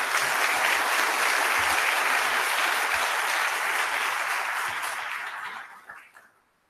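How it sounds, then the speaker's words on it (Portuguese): Audience applause at a sports management seminar: a full, continuous roar of many hands clapping that holds steady for several seconds, then thins and fades out to near silence. "Acho que ele merece outra salva de palmas só por isso."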